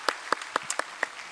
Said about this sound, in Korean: 우리 선생님들을 위해서, 교회학교 교사들을 위해서 박수 한번 하면 좋겠습니다.